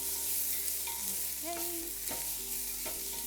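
Food for a Congolese main course is stirred as it fries in a pan, with a soft continuous sizzle and scraping stir strokes. A brief word is spoken.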